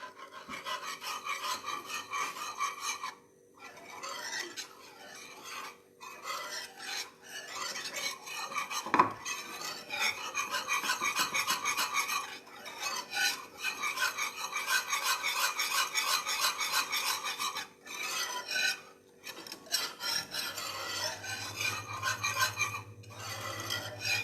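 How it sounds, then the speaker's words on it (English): A mixture is stirred in a pan during home cooking, a spoon scraping and rubbing steadily against the pan in repeated close strokes with short pauses, no talking over it. "You have to stir it properly in the corners of the pan"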